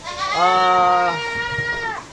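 A goat lets out one long, loud bleat, wavering and drawn out, close by with no talking.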